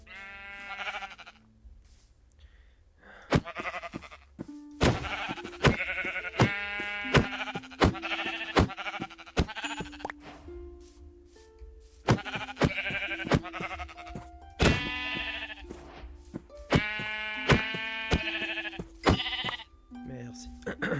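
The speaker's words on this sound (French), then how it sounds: "Plus qu'un mouton blanc à trouver et puis on sera bon." Sheep in the video game Minecraft give repeated short, nasal bleats in irregular bursts, fairly clear and prominent over a quiet steady background.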